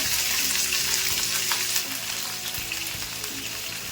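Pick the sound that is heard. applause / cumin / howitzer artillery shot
cumin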